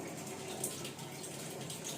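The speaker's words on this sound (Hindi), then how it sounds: "ये इसलिए पानी ड्रेन होना इसीलिए शुरू हुआ। आप स्पिन मोड में ले आए।" A fully automatic Samsung washing machine drains water in spin mode, giving a steady, moderately loud rush of flowing water that continues unbroken without voices.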